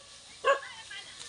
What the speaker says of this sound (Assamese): চক দুটা কুকুৰ কেনেকৈ ভুকি আছে দেখিছে?